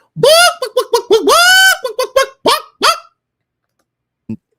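A chicken clucking sound effect: a loud, close run of harmonic squawks and clucks in uneven bursts, then a pause before one short final cluck.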